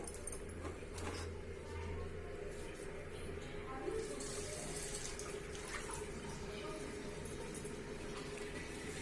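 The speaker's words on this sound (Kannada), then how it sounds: "pour out the hot water and then run it under cold water" Tap water runs over cooked vermicelli in a vessel, a faint steady stream beneath a voice talking.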